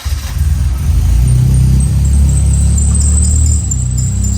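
Engine of a Mercedes 190E Evo 2 replica car running after being started, a loud, steady, deep rumble close by that holds for about four seconds with no talking.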